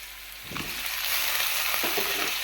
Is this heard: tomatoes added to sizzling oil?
yes